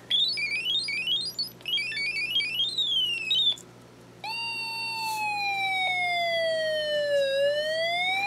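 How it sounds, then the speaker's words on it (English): Electronic warbling tones from a Snap Circuits kit, with salt added to water in the circuit, sweep up and down like a wailing siren, then settle into a long, steady descending whine, loud and continuous with no talking. "Notice how the sound is now sounding like the siren, but not quite exactly like it."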